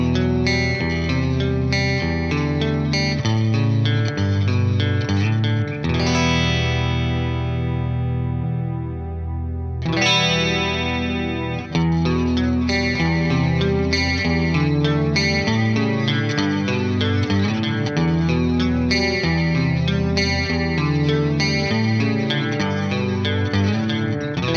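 An electric guitar run through a Behringer UC200 Ultra Chorus pedal set with plenty of depth plays a continuous chordal passage with shimmering, wavering modulation and a brief sustained ringing pause midway, loud and upfront.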